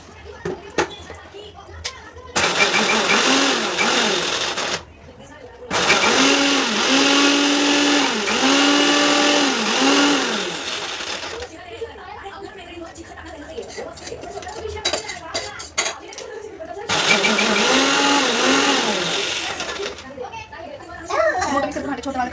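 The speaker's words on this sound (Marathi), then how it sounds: "आता एक मी अद्रक लसूण आणि ना मिरच्या वाटून घेणार मिक्सरला" A kitchen mixer grinder blitzes ginger, garlic and green chillies in several loud whirring bursts separated by short pauses, with a voice talking in between and around the runs.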